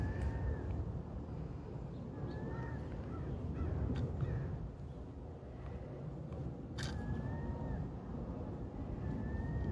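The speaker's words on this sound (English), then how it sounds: "Seagull?" A seagull calls several times outdoors over a steady low rumble of wind or light rain, its short rising cries spaced out and fairly distant, with one sharper call near the middle.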